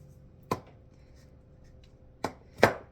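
Three sharp knife chops on a cutting board as okra is sliced during iguana food prep, spaced irregularly with quiet gaps between them, close and clear with no talking.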